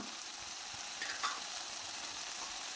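Spices, curry leaves, crushed ginger and garlic and ground pepper fry in a pan for a drumstick and potato curry, giving a soft, continuous sizzling hiss with faint stirring scrapes and no voices.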